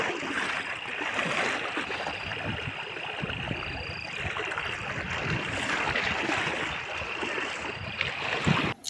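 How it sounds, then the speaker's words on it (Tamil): Loud, steady rush of an overflowing stream after heavy rain, water running over a bridge, continuous and close, with a broad churning roar and no voices. "ஓடை நிறைஞ்சி போகுது"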